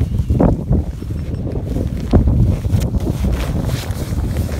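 Cold wind buffeting a microphone outdoors during a winter snowmobile photoshoot, a steady loud rumbling roar with gusty swells and no speech.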